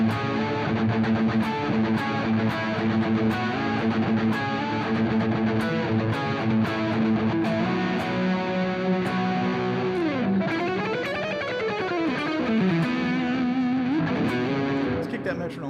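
An electric guitar plays a pedal tone lick through effects and distortion, a driven melodic line that repeats against a held low note, with sustained notes and slides, loud and upfront.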